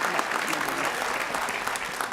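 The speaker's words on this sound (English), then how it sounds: "Please join me in a round of applause for DanShawn Jenkins." Steady audience applause at a scholarship jazz brunch honoring a recipient, dense and even clapping from a room full of people with no pause.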